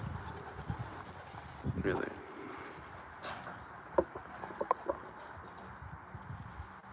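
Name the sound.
racing pigeons at the loft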